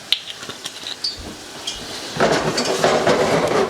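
Mushrooms cook in a hot pan on high heat as sherry goes in: a few clinks and scrapes, then a sudden loud hiss and sustained sizzle.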